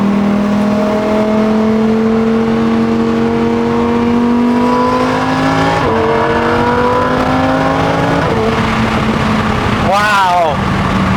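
Lamborghini Huracan Performante engine in Corsa race mode climbs through the revs with rising tonal howls and quick shifts, heard loud from inside the cabin, with a passenger speaking over it.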